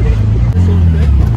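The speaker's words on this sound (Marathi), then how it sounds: "इथून रिक्षातनं चाललोय" An auto rickshaw crammed with seven passengers rumbles along the road in Malad, its loud, low engine drone running steadily throughout while people talk over it.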